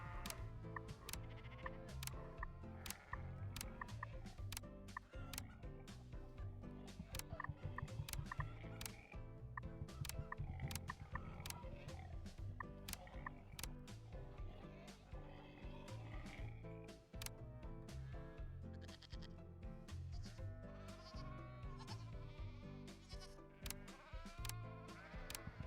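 Sheep in the farming game Farm Manager World bleat repeatedly over a busy backdrop of clicks and music-like tones, the quavering calls recurring throughout at moderate loudness.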